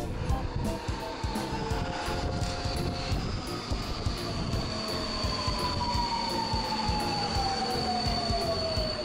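Budapest metro line 2 train riding deep underground, a steady loud rumble of wheels on rails with a rising and falling whine and faint squeal running through, continuous throughout with no talking.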